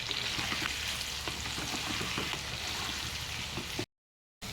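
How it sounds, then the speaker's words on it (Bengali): Small whole potatoes fry with salt and chili powder in hot oil, giving a dense, steady sizzle with faint crackles, close and loud, before a brief cut to silence near the end. "এবার আমি এর মধ্যে পরিমাণ মতো লবণ, কিছুটা লঙ্কার গুঁড়ো দিয়ে হালকা করে ফ্রাই করে নেব।"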